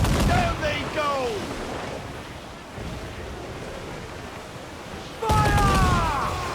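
Cannon fire from a sailing ship's broadside in Assassin's Creed IV: Black Flag booms against a constant wash of waves and wind, while crew voices shout commands before and after.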